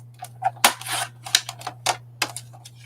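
Scissors snip through a glossy magazine page in a quick series of crisp, close cuts, a few short strokes with pauses between, over a steady low electrical hum.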